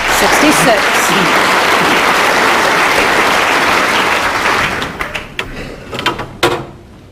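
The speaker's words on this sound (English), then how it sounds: "The applause recognises that 73." Sustained crowd applause at a snooker match fills the space for several seconds, then thins into scattered claps and a few sharp taps and thuds as it dies away.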